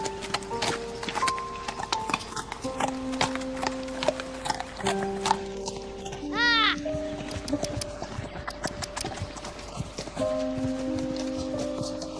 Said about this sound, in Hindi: मुझे भी घोड़ा चलाने दो ना